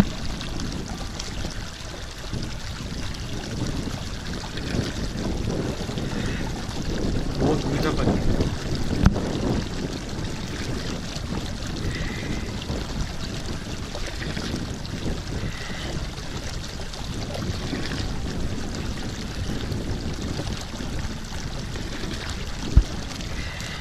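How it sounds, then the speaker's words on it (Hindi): Cold natural mountain stream at Sonmarg, Kashmir, near Thajiwas Glacier, rushing in a steady broadband wash for the whole stretch, fairly close and continuous, with wind buffeting the microphone and no talking. "नेचुरल वाटर जा रहा है, बह रहा है।"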